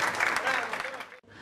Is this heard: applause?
yes